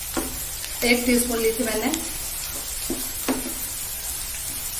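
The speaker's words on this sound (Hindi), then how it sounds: "प्याज का कलर चेंज नहीं करना है, सिर्फ सॉफ्ट होने तक भूनना है।" Chopped onions with crushed red chili sizzle softly in a pan over a high gas flame, punctuated by a few spatula stirs and scrapes while someone speaks briefly over the frying.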